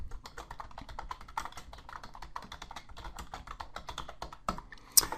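Rapid, steady typing on a computer keyboard while entering business objectives into a SharePoint 2010 form, a continuous clatter of close key taps ending with a sharper keystroke, like an enter press.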